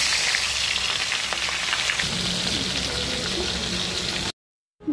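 Fish fries in hot oil with a loud, dense, steady crackling sizzle that cuts out abruptly near the end.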